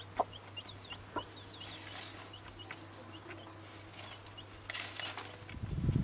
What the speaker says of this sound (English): Just wanted to give you guys a little update on the chickens.